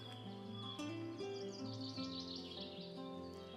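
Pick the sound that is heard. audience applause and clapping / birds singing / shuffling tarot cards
birds singing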